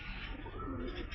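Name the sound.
pigeons cooing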